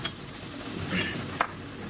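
Onion and minced garlic sauté in melted butter for a black pepper steak sauce, a steady close sizzle with stirring scrapes and one short clink of the utensil against the pan.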